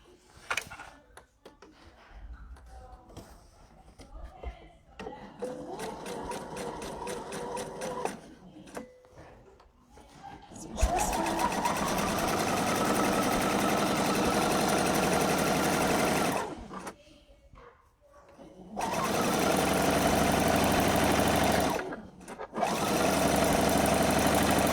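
A sewing machine stitches a Miyako bag in several long runs, its rapid, even motor buzz stopping and restarting with short pauses between bursts, close and loud.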